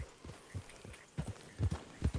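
Horse hooves clip-clop in a steady galloping rhythm while riding through Red Dead Redemption 2, the beats close and fairly soft, growing heavier toward the end.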